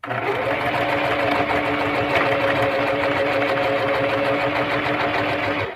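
A sewing machine stitches steadily while sewing a small zipper coin pouch, a continuous rapid mechanical whirring and ticking at close range that runs without a break.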